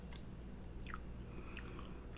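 Close, crunchy bites and wet chewing on a bacon double cheeseburger with American cheese, lettuce and tomato, a few sharp crunches over a steady low background, with no talking.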